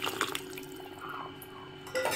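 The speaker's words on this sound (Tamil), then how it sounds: "அந்த புளித்தண்ணியை எடுத்து அதை எடுத்து இதில் ஊற்றிடலாம் எல்லாத்தையும்" Tamarind water is poured into a pan of dry fish curry on a gas stove, making a soft splashing, trickling pour under low kitchen background noise, without talk.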